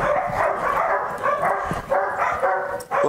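A Belgian Malinois barks and yips in rapid, energetic bursts during bite-work training on a farm, close and loud, with brief whimpering sounds between barks.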